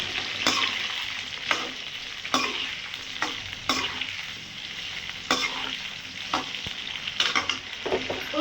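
Eggplant fries in oil over high heat, a steady close sizzle broken by sharp, regular scrapes of a spatula stirring against the pan, with no talking.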